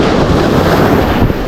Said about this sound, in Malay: Angin kencang kali ya.